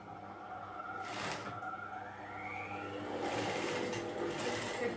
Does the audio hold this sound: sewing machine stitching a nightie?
yes